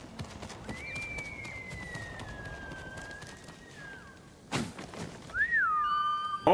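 Horse hooves clop softly in the Ghost of Tsushima video game beneath a long, high whistle-like tone, followed by a sharp thud and another rising call near the end.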